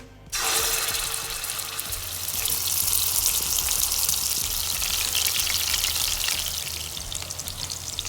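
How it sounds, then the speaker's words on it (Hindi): Chicken muthi kababs hit hot oil in a pan over a medium flame, starting with a sudden loud sizzle that holds as a dense, steady crackling hiss throughout. "ऑयल गर्म हो चुका है और अब मैं मीडियम फ्लेम पे मैं फ्राई करूँगी"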